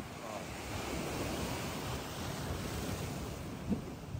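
High-tide sea waves washing steadily onto Boa Viagem beach in Recife, near shore where rocks have been placed, a continuous loud surf roar with wind buffeting the microphone and no speech.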